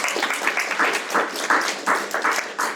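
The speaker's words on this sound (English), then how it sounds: "round of applause, that's amazing." Audience applause at a panel event on women in NFTs, a steady wash of many hands clapping, fairly close and lively, swelling in bursts over nearly three seconds with no talk.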